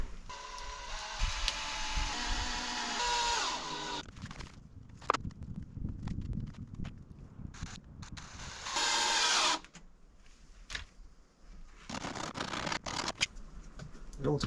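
A cordless drill drives screws into the end of a piece of bender board, with bursts of whirring alternating with clicks, taps and handling noise in between.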